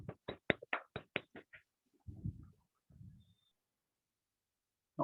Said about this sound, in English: give a big round of applause to Author Sherry Sir